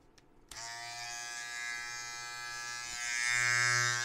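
A Philips BT1216/10 electric hair trimmer switches on with a click and runs with a steady close buzz, its pitch shifting slightly near the end.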